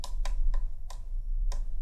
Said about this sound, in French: ça c'est le petit bouton reset. Donc j'appuie dessus.